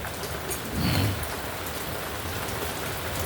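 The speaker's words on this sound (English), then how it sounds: "It is absolutely pouring out right now." Heavy rain pours down during a severe thunderstorm, hammering nearby surfaces and a gazebo overhang in a dense, steady roar, with a brief low rumble swelling near the start.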